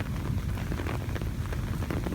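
Monsoon rain pours over a village, a continuous close patter of drops striking surfaces, loud and unbroken for the short stretch, with no talking.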